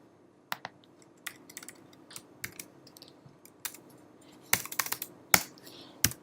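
Keys clicking on a computer keyboard in short bursts with pauses, a few sharper spacebar-like taps standing out, close and fairly quiet with no talking.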